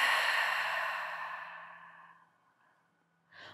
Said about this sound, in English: And exhale to release